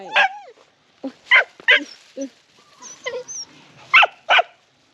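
Dog barking in a rural Thai setting, several sharp close barks and yips in irregular bursts with short whimpering sounds between, fairly loud and alone.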